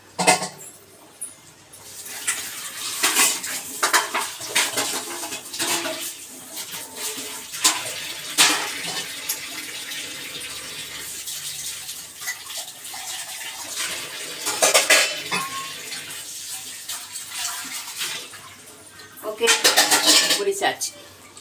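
Dishes clatter and scrape under running tap water in a kitchen, with splashing and intermittent clinks of pots and utensils, loud and near.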